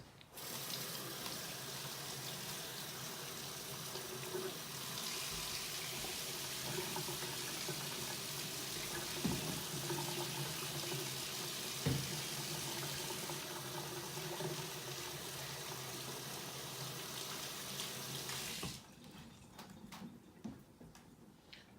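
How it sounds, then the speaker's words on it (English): Water pours steadily from a kitchen tap as hands are rinsed at the sink after coating a beef roast, a close, continuous splashing rush lasting nearly twenty seconds before the flow cuts off, leaving a few faint clinks. "let me rinse my hands"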